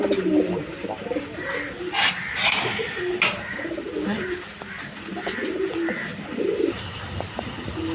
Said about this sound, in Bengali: আপনার দেশি রাজগোল্লা কবুতর আছে